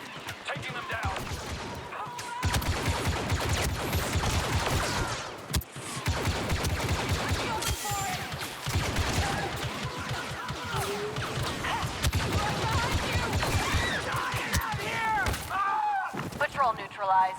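Blaster fire in the Star Wars Battlefront 2 game, with dense rapid volleys of shots and crashing impacts running loud and continuous throughout, and voices talking over the combat.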